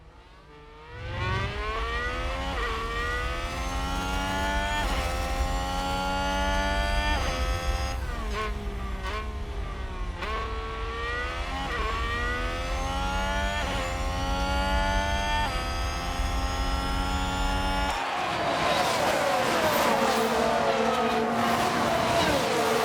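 Formula 1 race cars on the Brazilian Grand Prix circuit in F1 Manager 22, loud high-revving engines whining steadily and shifting pitch up and down as cars overtake, with a sudden change in engine tone near the end.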